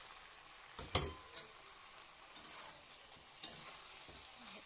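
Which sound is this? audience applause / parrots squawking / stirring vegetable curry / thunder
stirring vegetable curry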